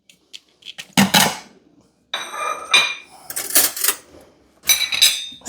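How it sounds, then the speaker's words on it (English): Ceramic plates clink and clatter as a small plate is pulled from a stack of dishes, several sharp ringing knocks in irregular bursts, close and fairly loud with quiet gaps between. "Let's get us a little plate."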